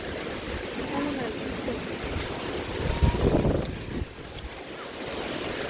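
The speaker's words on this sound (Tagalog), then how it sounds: "Sobrang lakas ng hangin guys." Strong typhoon wind roars and buffets the microphone near a house, with broad steady rushing noise and a louder gust swelling around the middle before easing back.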